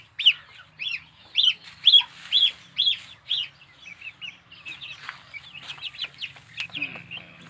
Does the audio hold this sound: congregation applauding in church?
no